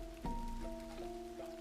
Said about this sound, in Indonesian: Malam itu hujan deras mengguyur kota